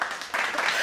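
A studio audience claps to welcome horror actor David Howard Thornton onto a podcast, a short burst of steady, fairly close applause that swells slightly toward the end.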